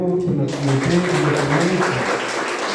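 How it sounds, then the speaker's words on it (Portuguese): Applause for the reader at a novena for São João Batista, heard as steady clapping from a gathered crowd throughout, with someone speaking over it near the start. "Uma salva de palmas para o nosso leitor"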